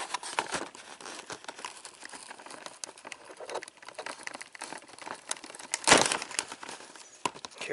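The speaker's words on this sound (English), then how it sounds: "I'm just gonna cut the tape." Scissors snip through packing tape on a cardboard box, soft crinkling and scraping of tape and cardboard up close, with a sharper crackling burst near the end.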